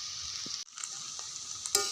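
Chow mein noodles stirred in a pan, soft hissy sizzle with a short pause and a few light scraping clinks of the spatula, quiet and without talk.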